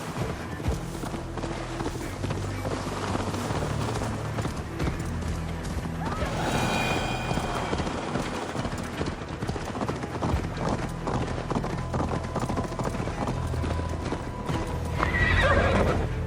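Horse hooves clip-clop at a steady run with loud neighs and whinnies, set against game music and ambience in the Viking-era open-world game Assassin's Creed Valhalla; a voice briefly calls out over the galloping.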